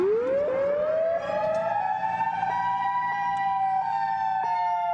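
EOS 612 siren wailing loud and alone, its tone rising steeply at the start and then holding a high, steady howl with rich overtones.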